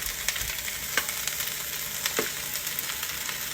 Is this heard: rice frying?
yes